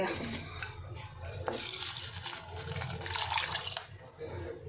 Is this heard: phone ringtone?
no